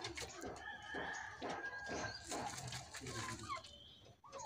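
Chickens cluck repeatedly in a village yard, a string of short, moderately close calls, with other birds and background noise around them.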